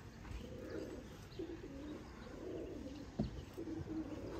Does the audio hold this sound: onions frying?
no